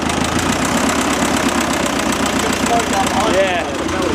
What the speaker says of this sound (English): Engine sounds really nice.